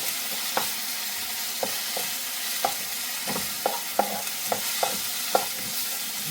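A paste of ginger, shallot and garlic frying in oil for a Kerala-style chicken liver curry, with a steady close sizzle broken by about a dozen sharp scrapes and taps as a spoon stirs the pan.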